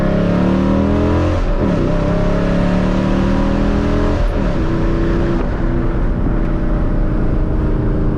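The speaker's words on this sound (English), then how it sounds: "I'm gonna show y'all a pull here." A manual Dodge Challenger accelerates hard on an interstate, the engine note climbing loudly through the revs with brief dips at gear changes, heard from inside the car.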